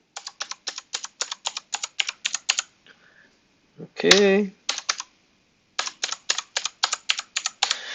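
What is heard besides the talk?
typing a password on a computer keyboard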